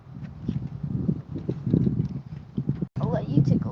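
Horse hooves clop slowly on firm ground near a mounting block at a horse rescue, an irregular walking beat close by, with people talking over it much of the time.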